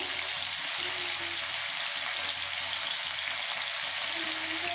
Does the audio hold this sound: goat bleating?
no